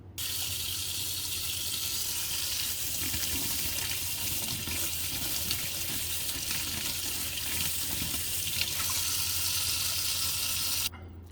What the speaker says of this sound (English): Now I'm going to go rinse it under the water.